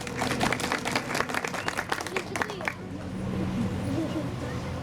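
Brief burst of audience clapping at a fish restaurant opening ceremony, welcoming a speaker to the microphone; dense claps for under three seconds, then fading into room murmur and a voice.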